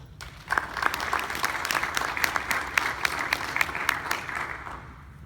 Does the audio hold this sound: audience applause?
yes